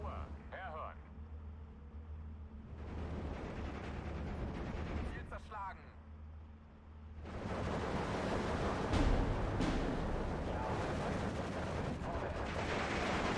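Mortar impacts and gunfire from the WWII strategy game Steel Division 2 rumble in broadband bursts, sharp reports at first, then a dense sustained barrage of explosions and shots that grows louder through the second half.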